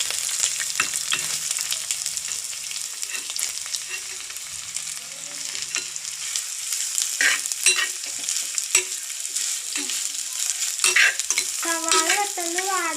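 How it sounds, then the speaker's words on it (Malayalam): Onions and garlic sautéing in a hot pan, a continuous close sizzle broken up by scraping stirs and clinks of a spatula, with no talking. "എല്ലാം കൂടി വഴറ്റി കൊടുക്കാം."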